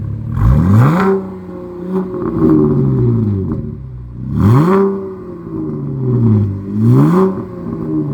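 A Chevrolet Camaro's engine is revved hard three times in the night air, each blip climbing sharply and falling back to a steady idle between them, loud and close.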